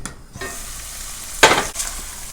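Ginger and onion dropped into a hot pan with tender beef for a Chinese-restaurant style beef soup, a burst of sizzling and stirring clatter after a quiet start, close and loud, with a few short scrapes following.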